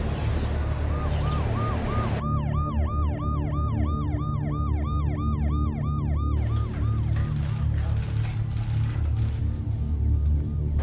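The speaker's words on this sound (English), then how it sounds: "I'm outside one of the most prominent hospitals in Delhi, where ambulances have been coming every few minutes." An ambulance siren outside a major hospital in Delhi wails in a steady, fast up-and-down cycle, loud and close over constant traffic noise, then cuts off into rumbling street sound.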